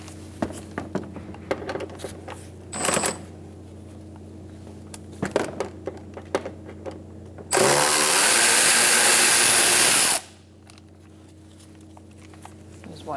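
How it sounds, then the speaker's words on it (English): A power driver with a T27 bit spins out Torx bolts on a 2012–2018 Ford Focus 2.0L four-cylinder during serpentine belt work: one loud, steady burst lasting a few seconds, surrounded by scattered clicks and tool handling. "We're going to use a T27 and remove our torque bolts."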